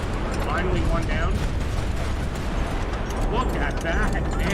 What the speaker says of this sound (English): Massive internal explosion.